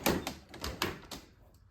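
Clunks and rattles of a vintage camper door, a 1953 La Cabana, being taken apart, several close knocks and thuds in quick succession fading into a quieter tail.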